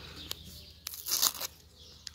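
Paper rustles and tears as a handmade paper surprise packet is opened up close, with a few sharp crinkles and one louder tearing burst in the middle.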